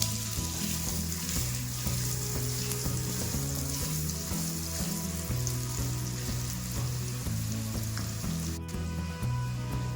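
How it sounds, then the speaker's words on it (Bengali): Cut potatoes fry in hot oil spiced with cardamom for a vegetarian chhana curry, making a steady, close sizzle with occasional stirring and a low tonal hum underneath. "এবার দিয়ে দিচ্ছি আলু কাটা।"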